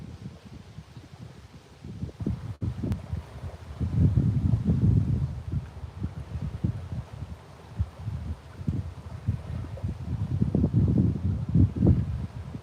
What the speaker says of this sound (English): it's getting really windy out here, you guys